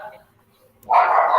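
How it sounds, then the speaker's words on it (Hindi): A dog barks loudly and close by in the middle of an online class conversation, one sustained bark burst after a quiet stretch. "सर कुत्ता भी भौंक रहा"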